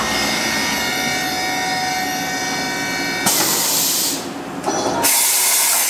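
A Mori Seiki MV Jr machining center spindle spinning at 3500 RPM, running forward and in reverse, gives a steady loud whine and hiss with a brief dip when it changes direction.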